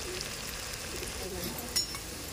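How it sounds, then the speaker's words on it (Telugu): Potato pieces deep frying in oil for crispy aloo fry: a steady, quiet sizzle and bubble throughout, with one brief metallic clink near the end. "దీనికి ఇట్లా ఆయిల్లో బాగా ఫ్రై కావాలి"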